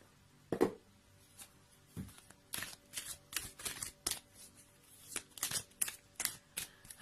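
Tarot cards are shuffled and drawn by hand, producing a series of soft, close riffling and snapping flicks in uneven bursts over a quiet background.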